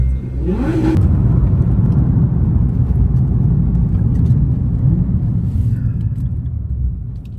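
A supercar on an Irish back road in County Clare, its engine rumbling and rising in revs, a steady loud interior drone lasting the whole stretch with a brief muffled voice near the start.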